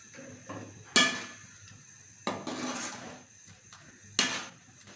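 Three sharp metallic clanks of a utensil against a pot while stirring masala paste into a soya chunk curry, spaced a second or two apart, each trailing into brief scraping, with no voices.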